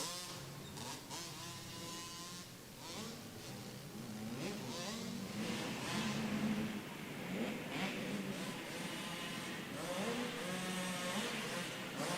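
Small-wheel pit bikes in a girls' division for riders 10 and under rev together at the start line of an indoor barn race, a dense, steady buzzing engine roar that swells slightly as the race gets underway.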